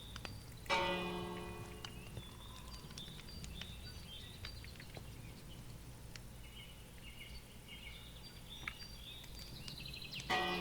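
A bell in the video game Minecraft Dawncraft rings once with a bright, ringing strike that decays slowly, followed by faint ambient bird chirps and another soft strike near the end, quiet overall.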